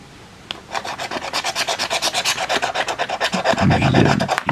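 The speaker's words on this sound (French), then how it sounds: "Avec un bonus, je peux gratter le bonus." Close, rhythmic scratching on an FDJ lottery scratch card, a rapid series of dry rasping strokes about five per second, ending in a longer, heavier rub.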